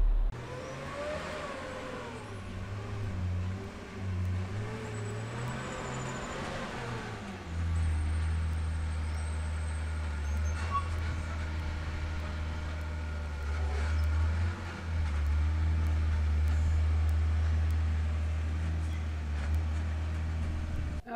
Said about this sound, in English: now that he's backed up and moved forward and backed up and turned around